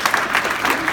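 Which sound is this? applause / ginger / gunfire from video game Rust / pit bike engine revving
applause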